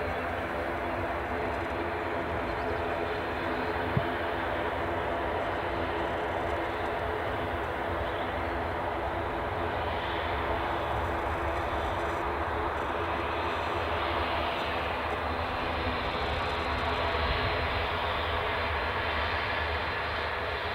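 An airliner departing Edinburgh Airport, a sustained distant roar of jet engines with broad rumbling noise that swells slightly toward the end, faint and steady with no talking.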